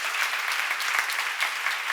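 A church seminar audience bursts into dense, even applause, many hands clapping at once in a steady wash that holds at full strength for the whole moment, with no voices on top.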